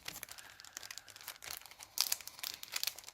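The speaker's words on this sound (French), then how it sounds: "je vais couper cette bande là ici" Scissors snip through a strip of paper card in a series of close, crisp cuts and crinkles, with irregular short bursts and brief pauses between them.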